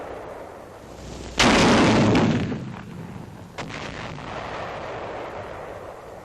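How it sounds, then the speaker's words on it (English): A 57mm recoilless rifle fires a HEAT-38 shell at cave targets 8,000 to 9,000 yards away in the Pacific theater, 1945. One loud, sudden blast rolls off into a long rumble, followed by a fainter second report and a steady outdoor background. "The 57mm recoilless rifle, also in action for the first time in the Pacific theater."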